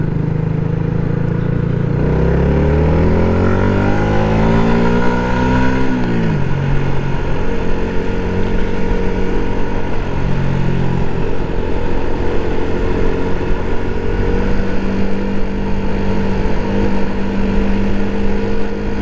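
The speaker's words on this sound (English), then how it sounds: "Right, this is going to be a first for me. Clyde Tunnel on my bike." A motorcycle ridden through the Clyde Tunnel in Glasgow, its engine droning loud and close as revs climb and shift, with steady wind and road roar echoing in the enclosed tube throughout.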